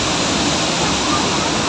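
Waterfall at Tad Sung, a steady roaring wash of falling water, loud and close, unbroken and even throughout with no other sounds standing out.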